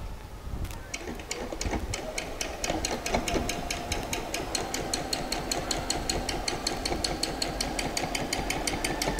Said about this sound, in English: Always remember to reverse stitch at the beginning and at the end and trim off your threads.